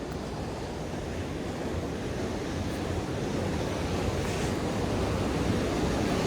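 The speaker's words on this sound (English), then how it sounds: "We're about to go under this waterfall." A waterfall in Oregon roars steadily and loudly for the whole stretch, a dense unbroken rush of falling water heard up close with no voices over it.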